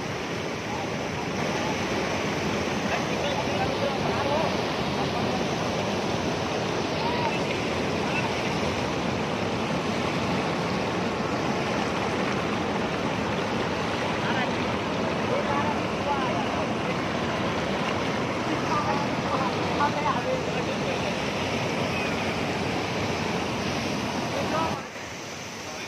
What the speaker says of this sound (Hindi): इसका फुहारा जो आ रहा है पानी का